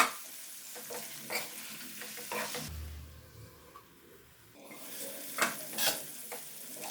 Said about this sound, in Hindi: सारे मसाले को डालकर हम इसे स्लो टू मीडियम फ्लेम पर 4 से 5 मिनट तक और अच्छे से भूनेंगे।